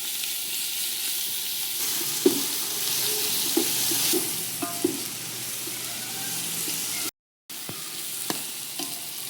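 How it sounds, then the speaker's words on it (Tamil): Chopped tomatoes with ginger-garlic paste sizzle in a pan, a soft continuous frying hiss broken by a few spoon taps and scrapes, close and fairly quiet, with one brief dropout and no talking. "தக்காளியும் வதங்கி வந்துடுச்சு."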